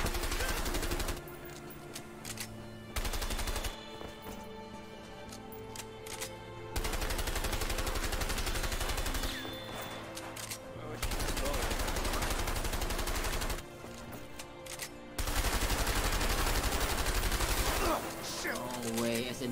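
SMG gunfire in a video game, loud bursts of automatic fire repeating in several long stretches with short gaps between them, no talking over it.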